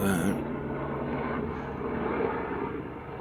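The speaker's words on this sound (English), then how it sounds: "A lot of helicopter activity here" Helicopter flying overhead, a steady low rotor-and-engine drone that stays loud and continuous throughout, with no clear voices on top.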